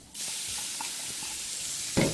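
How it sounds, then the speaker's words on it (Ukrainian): Pork fat and onion frying in a hot pan while cooking Cossack kulish, a steady loud sizzle throughout with faint stirring clicks and a brief louder scrape near the end. "До смаженого сала додаємо цибулю."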